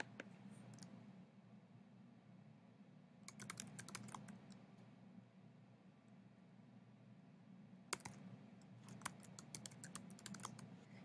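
Keystrokes on a computer keyboard come in quiet, short bursts of rapid clicks separated by pauses. They sit over a faint, steady room hum.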